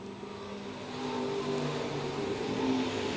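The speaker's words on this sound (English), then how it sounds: "7-11 Rusinger coming up on slower car" Stock cars race at Lakeside Speedway, a continuous distant engine drone that swells and holds steady as the field passes, with no talk.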